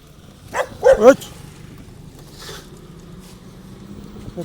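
A few sharp dog barks close by, two or three in quick succession, followed by quieter background noise and a faint yip.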